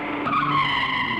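A vehicle skids to a stop with a short, loud tyre squeal that rises and fades within about a second, close by.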